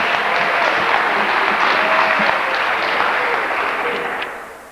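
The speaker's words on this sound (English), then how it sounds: "all the teams deserve a big round of applause." After a basketball championship game, the audience claps in a steady, dense round of applause that carries evenly for several seconds before fading slightly at the end.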